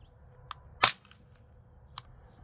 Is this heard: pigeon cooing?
no